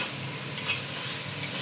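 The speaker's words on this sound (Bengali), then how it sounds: "ভালো করে কষিয়ে নেবো মশলা" Masala spice paste sizzling and frying in a pan as it is sautéed for a spicy fish curry, a continuous hissing crackle at steady moderate level with faint stirring scrapes.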